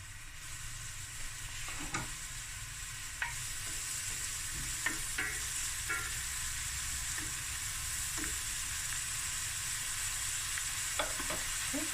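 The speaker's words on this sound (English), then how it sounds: "So I'm going to add my curry leaves." Curry leaves sizzle in hot oil for a prawn and coconut milk curry, a constant loud crackling hiss broken now and then by sharper pops and a few stirring knocks.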